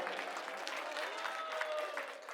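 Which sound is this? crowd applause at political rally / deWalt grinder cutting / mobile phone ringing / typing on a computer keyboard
crowd applause at political rally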